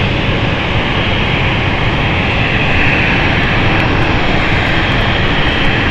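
Aircraft engines at London City Airport, a loud steady roar of a nearby plane holding constant throughout with no breaks, no talking.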